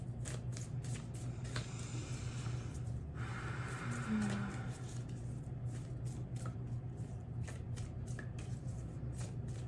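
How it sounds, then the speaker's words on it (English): Affirmation cards are shuffled by hand in quiet, soft papery riffles and taps that repeat in short bursts over a low background hum. "Let's shuffle."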